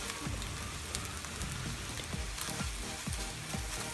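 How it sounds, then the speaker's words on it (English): Scrambled eggs cook in a hot pan for an egg breakfast sandwich with a steady, crackling sizzle like light rain, plus soft scraping strokes repeating beneath it at an even pace, fairly quiet and without talk. "Here comes my scrambled eggs."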